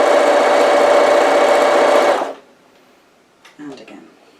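A sewing machine runs loud and steady, stitching the side seams of a fabric cushion cover, then stops abruptly; a few faint handling clicks and rustles follow in the quiet.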